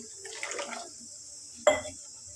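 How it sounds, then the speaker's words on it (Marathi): A brief splash of extra water poured into a pot of whole masoor lentils, followed moments later by a single metallic clink, close by and fairly quiet. "थोडंसं एक्स्ट्रा पाणी पण टाकू."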